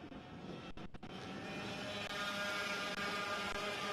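A pack of 100cc two-stroke air-cooled single-speed ROK senior VLR racing karts screaming past on track, a continuous high buzzing roar that stays loud and steady after a brief dip.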